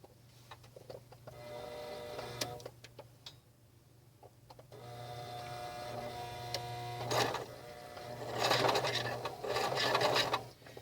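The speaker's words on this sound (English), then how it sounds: "we're just going to do a straight stitch down all of these sides that we've pinned" A sewing machine runs a straight stitch down pinned fabric edges, a steady mechanical whir with rapid needle ticking that stops, restarts and grows louder toward the end.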